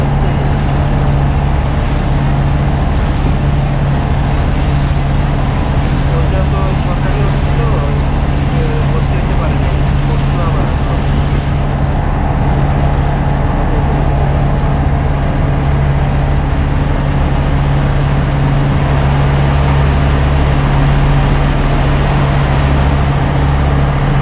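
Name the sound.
Hatirjheel water taxi boat travelling on water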